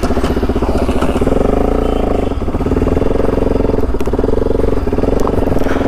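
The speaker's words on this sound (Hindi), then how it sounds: "मैं अभी निको भाई और गायत्री मैम से थोड़ा राइड करूंगा 10-15 किलोमीटर" A motorcycle rides along with a loud, close, steady engine drone and some mechanical clatter running the whole time, with no talking.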